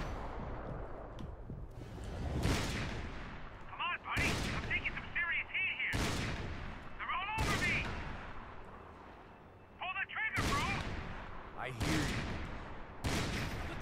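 Sniper rifle shots in the video game Max Payne 3, several loud sharp cracks spaced a second or two apart, mixed with game effects and someone talking between shots.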